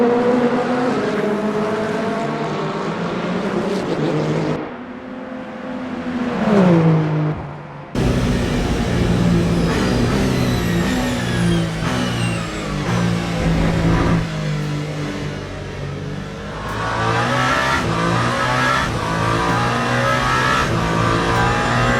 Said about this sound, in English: Proton Porsche, crossing the start-finish line.